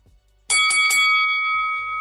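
A bell rung to open the main event: three quick, loud metallic strikes in rapid succession, then a bright sustained ring that slowly fades, heard alone with no talking.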